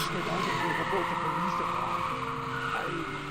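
Car tires skid and squeal during the Indiana Jones and the Fate of Atlantis car-crash minigame, a loud sustained engine-and-screech tone with shifting pitch and a voice talking over it.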